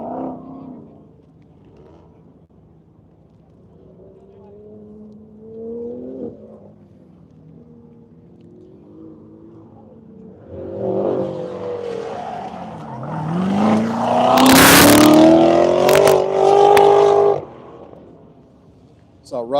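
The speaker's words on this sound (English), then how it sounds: "I got Rob taking off in the Parts Farm Porsche." A Porsche race car launches at an airfield autocross event, engine rising from a low idle to a loud roaring acceleration with tire squeal, under an announcer's talk.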